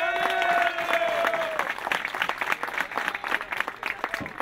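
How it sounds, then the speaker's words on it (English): A gallery applauds a disc golf player at a tee during a European Open round, with crisp clapping building after a brief tonal sound and continuing steadily while voices mingle underneath. "Nate Doss soaking up the applause from the gallery here"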